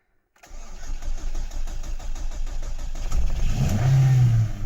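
A car engine cranks briefly and catches, settling into a running idle and then revving up with a rising hum, loud and close in a garage setting.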